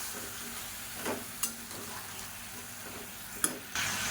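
Vegetables sautéing in oil in a pan for a traditional Tamil poricha kuzhambu, a steady soft sizzle with a few sharper clinks and scrapes of a spoon against the pan, close and fairly quiet, no talking.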